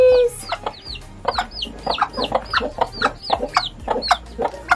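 Hens clucking near their chicks on a small farm, a quick run of short, clipped calls repeating close by in an uneven rhythm over soft background noise.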